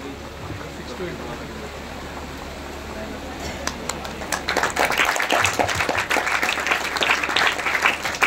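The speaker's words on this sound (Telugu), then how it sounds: "ఇంకొంచెం గట్టిగా క్లాప్స్ కొట్టచ్చు." Audience clapping at a memento presentation in an institution hall, starting quiet with faint background murmur and a few scattered claps, then swelling into loud, dense applause for the last half.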